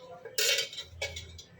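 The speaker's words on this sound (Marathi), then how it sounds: "हे व्यवस्थित फेटून घ्यायचे आपल्याला." A spoon whisks rava dhokla batter in a bowl, giving two short bursts of clinking and scraping against the bowl, close and fairly loud, with no talking.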